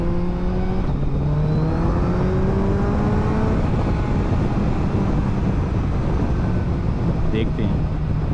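A 2023 Suzuki Hayabusa with a flashed ECU and a long exhaust can revs up and down while riding, a loud continuous engine drone with rising pitch sweeps over heavy wind rush.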